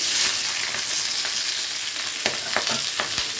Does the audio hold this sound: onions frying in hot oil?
yes